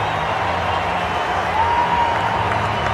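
Cricket stadium crowd at a one-day international in Johannesburg applauding a batsman's century, a steady, dense wash of clapping and cheering that swells slightly midway and carries on throughout.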